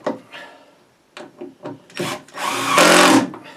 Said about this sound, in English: it's just a matter of driving in a couple of screws.